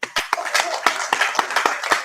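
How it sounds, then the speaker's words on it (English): Audience applause at a medical cannabis doctors' conference during a hemp expo: a burst of sharp, scattered hand claps with distinct loud slaps standing out, close and fairly loud, lasting about two seconds with no talk. "Can we have a round of applause for him?"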